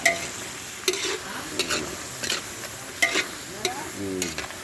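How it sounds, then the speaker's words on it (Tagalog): Native chicken tinola is stirred in a pot, with repeated close scraping strokes of a utensil at irregular intervals over a faint sizzle. "Kailangan kong haluin kasi baka masunog."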